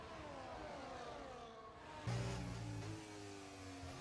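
Formula 1 cars with Mercedes power units in a racing video game whine past at high revs, several engine tones overlapping, with a louder, nearer car surging through for about a second midway; no voices.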